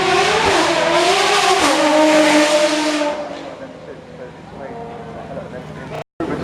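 A BMW M8 pulls away at the Goodwood Festival of Speed, its engine loud and close for the first three seconds, then fading into a lower rumble as it moves off, with a crowd murmuring throughout.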